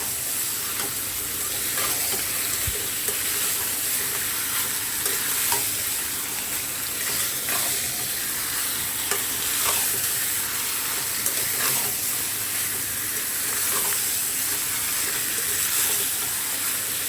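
Marinated desi chicken fries on a high flame for a spicy kasa, sizzling steadily with repeated scrape-and-stir strokes of a spoon in the pan, close and continuous.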